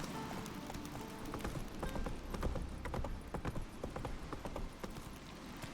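In The Witcher 3, a horse's hooves clip-clop in a steady, brisk rhythm over a low ambient bed of game sound, with no speech.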